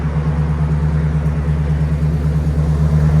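A Jeep SRT with a 6.4L HEMI V8 and Flow FX mufflers rumbles at a steady deep idle, loud and close, with no revving and no voices.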